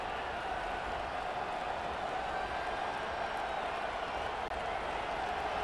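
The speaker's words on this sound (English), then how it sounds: "this crowd is fired up. Listen to this noise here." A large video-game stadium crowd in College Football 25 on PS5 roars steadily, a dense, continuous wall of cheering noise from start to finish with no pauses.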